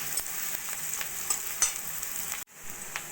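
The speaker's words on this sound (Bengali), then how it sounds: "পেঁয়াজ লঙ্কা রসুনটাকে একটু ভাজা ভাজা করে নেব।" Chopped onion, green chili and garlic frying in oil, a soft close sizzle with occasional stirring clicks and scrapes, briefly dropping out before the frying resumes.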